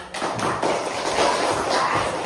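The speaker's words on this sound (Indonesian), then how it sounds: "Beri aplaus" Classroom applause from students after a group presentation, a dense burst of hand claps spread across the room, steady and moderately loud for a couple of seconds.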